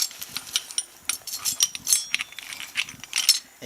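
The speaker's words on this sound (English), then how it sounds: "It's a Chinese ratchet." A cheap ratchet clicks rapidly in short uneven bursts while loosening a bolt on the engine of a 1998 Chevrolet Blazer with a 4.3 motor, close and crisp with no talking.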